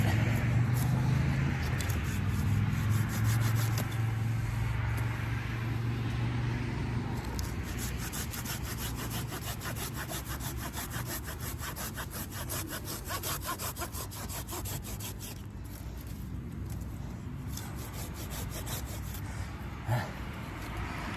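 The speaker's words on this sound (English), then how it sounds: "Sawing in the dirt." Rapid, rhythmic strokes of a hand saw grind through wood in the dirt for a long stretch, coarse and scratchy, with a low rumble in the background.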